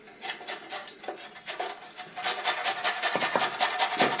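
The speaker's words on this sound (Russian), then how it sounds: "И натрем на терке." Ginger root being grated on a kitchen grater, a quick run of rough rasping strokes close by, speeding into a denser, steady scraping rhythm.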